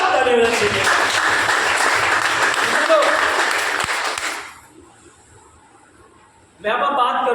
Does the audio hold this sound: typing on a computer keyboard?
no